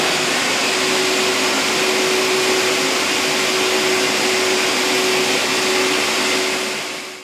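Festool CT20 extractor vacuum running through a cyclone interceptor, a loud, steady broadband whoosh with a constant motor whine, unbroken for several seconds before easing slightly at the end.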